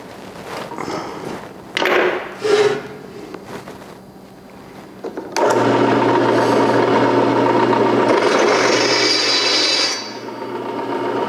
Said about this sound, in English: after drilling this hole